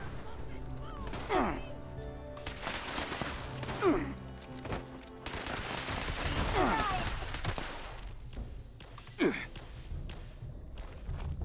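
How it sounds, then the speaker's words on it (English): Gunfire in the Fallout 76 video game comes as several scattered bursts of shots and thumps spread across the clip, with footsteps and other game sounds in between. "Shooting at me there."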